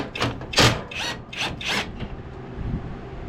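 A wrench working a 19 mm nut on a John Deere riding mower gives a run of five or six close, rasping ratchet strokes in a steady rhythm, then fades into low background noise.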